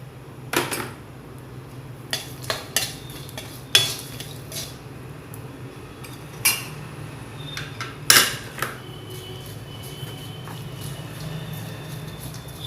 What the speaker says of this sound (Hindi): ये थोड़े से पंचमेवा हैं, इसको भी मैं घी में फ्राई कर रही हूँ।